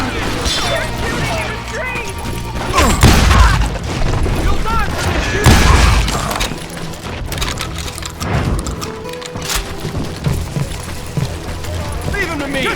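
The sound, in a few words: shotgun gunfire in the video game Call of Juarez Gunslinger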